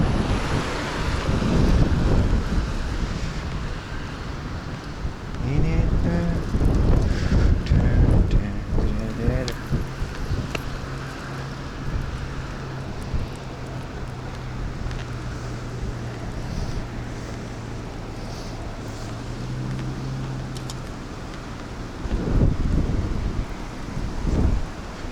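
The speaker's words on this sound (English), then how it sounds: "Let's hope the wind doesn't blow my stuff away." Outdoor wind at a Japanese flea market, steady roaring gusts buffeting the microphone throughout, with a low hum and occasional nearby voices underneath.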